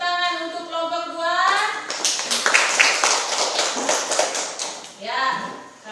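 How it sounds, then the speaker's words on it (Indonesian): A classroom of schoolchildren claps for a presenting group in a steady burst lasting about three seconds, set between a teacher's spoken words before and after. "Tepuk tangan untuk kelompok 2"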